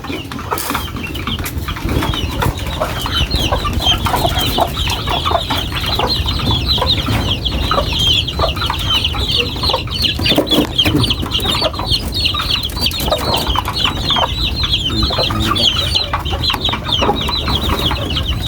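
A flock of chicks and chickens cluck and cheep continuously while being fed, with occasional wing flaps, loud and close throughout.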